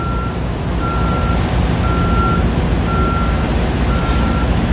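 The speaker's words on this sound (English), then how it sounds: "you got trucks about a half a mile, just trucks waiting" At a warehouse receiving yard, trucks idle under a steady engine rumble while a reversing beeper sounds in five evenly spaced beeps, fairly close and loud, without talk.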